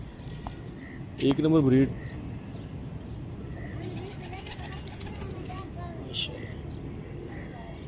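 Old Shah Sira breed pigeons give a short burst of cooing, loud and close for under a second, while someone talks over the birds before and after.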